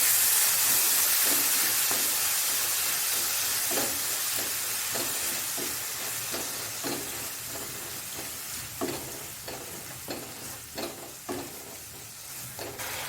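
Yogurt cooking into a mutton brain fry masala in a pan, with a steady sizzle and hiss throughout, punctuated by repeated stirring scrapes that grow more distinct toward the end, close up with no talking.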